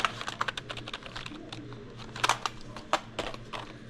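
Computer keyboard keys pressed in a steady run of quick, close clicks and clacks, with a few louder strikes standing out, heard alone in a storage unit.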